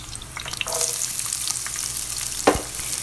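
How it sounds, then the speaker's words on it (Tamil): Onions and green chilies sauté in a pan for peas and cauliflower fried rice, with a steady close sizzle and a few stirring scrapes. No one speaks. "இப்போ இதையும் சேர்த்து இதுவும் கொஞ்ச நேரத்துக்கு வதங்கணும்."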